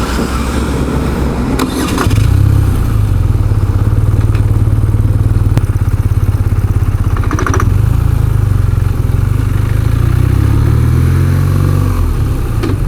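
A BMW R12 cruiser motorcycle with a boxer twin engine cranks and fires up, then settles into a loud, close, steady lumpy idle that runs for about ten seconds, with a brief clatter partway through.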